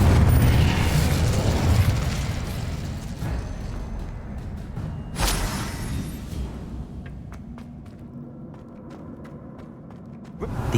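Spell effects in the video game Hogwarts Legacy, including an Incendio fire spell, with a loud rumbling burst that fades into creaking and crackling, a sharp pop midway and a small flare at the end.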